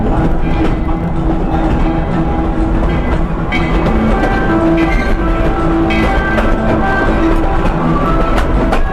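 A Tweetsie Railroad tourist train rumbles steadily along the rails, loud and close, with a continuous low roar and faint rhythmic clatter throughout.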